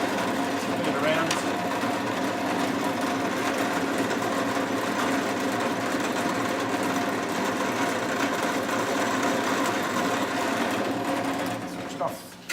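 A drill press whirring steadily while slowly boring holes in a ukulele fretboard, a continuous close high motor hum with cutting texture underneath that winds down at the end.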